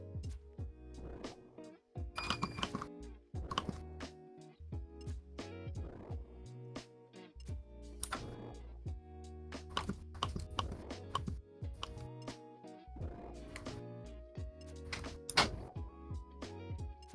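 Rapid clicking of computer keys in bursts with short pauses, fairly close, mixed with tonal background game music and low rumble, no talking.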